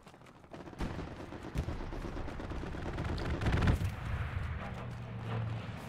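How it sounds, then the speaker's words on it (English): Aircraft strafing runs in the WWII shooter Hell Let Loose, rumbling bursts of heavy gunfire and booming impacts rolling continuously at mid distance, dense and sustained with no clear pause. "Bro, why are they randomly strafing the west side?"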